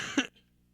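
A single short cough close by, then near silence with a faint low hum.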